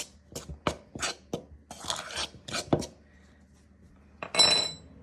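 Dry ingredients are stirred in a bowl as a series of close scraping, tapping strokes in an irregular rhythm, followed by a brief pause and a final brisker scrape; nobody speaks.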